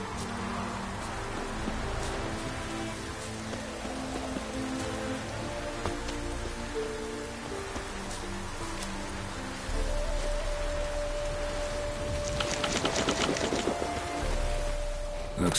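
Steady rain patters on surfaces in The Witcher 3: Wild Hunt, a dense continuous hiss with scattered drops that grows slightly heavier partway through, joined near the end by a sustained tone and a burst of brighter clatter.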